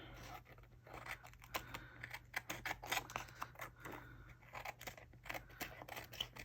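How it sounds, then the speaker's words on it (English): Faint, quick snips of scissors cutting paper in a quiet room, irregular clusters of small crisp clicks over a low steady hum. "I'm just going to use my scissors to trim"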